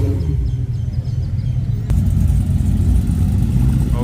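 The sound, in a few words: Dodge Viper and Hellcat cars arriving at car meet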